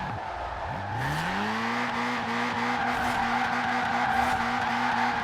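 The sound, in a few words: Toyota AE86 tires skidding while drifting in Forza Horizon 4 video game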